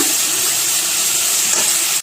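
Steady sizzling hiss of greens frying in a hot pan, loud and continuous with a brief clatter of stirring near the end.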